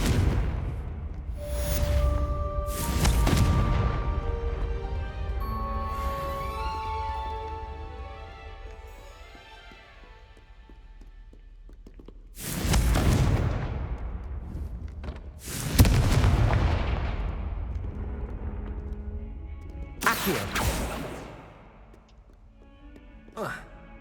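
Fiery Confringo blasts from the wizarding game Hogwarts Legacy, heard as four loud booming explosions, each a sharp burst with a rumbling tail, spread across the clip over lighter game sounds.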